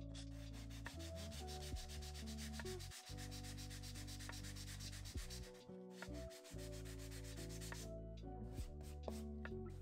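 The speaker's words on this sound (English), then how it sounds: "So I wanted to see if I can sand it down a bit. This is a 180 grit sandpaper." 180 grit sandpaper rubs dried gesso and molding paste on a canvas in a continuous, steady rasping, faint and close, with a few brief pauses between strokes.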